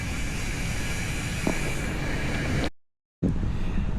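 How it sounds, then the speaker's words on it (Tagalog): A camera drone takes off and flies over a city building site, giving a continuous droning whir with wind buffeting on the microphone. A brief dropout of silence cuts in before the steady flight noise returns. "Subukan po natin makapalipad ng drone."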